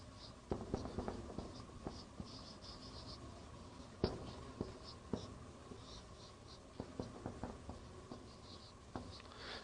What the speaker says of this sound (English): Let me write it down.